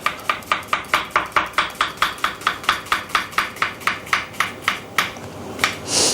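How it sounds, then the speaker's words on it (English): Knife finely chopping an onion on a board, core left in: a steady run of about twenty crisp, evenly spaced close taps, slowing slightly toward the end, with no talking. "Now for finely chopping onions, you want to leave the core in, and you should, in theory, chop not quite to the end"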